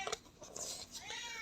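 A pet cat meows faintly indoors, a couple of short, thin cries in quick succession followed by a longer drawn-out meow, all quiet and close.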